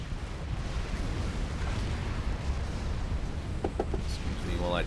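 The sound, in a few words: T3 power generator exploding in Supreme Commander video game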